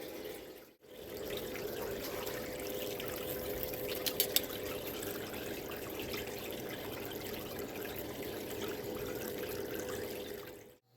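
Water runs steadily through a gold prospecting cleanup sluice in cold weather, a continuous close rushing wash with a brief dip near the start and no talking.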